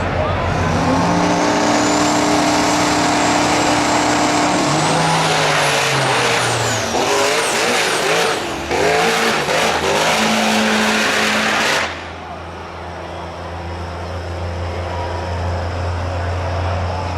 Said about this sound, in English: It is a 1937 Chevy truck driven by Tony Rizzo, in which he enters into no prep events